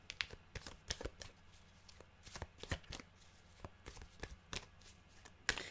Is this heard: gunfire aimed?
no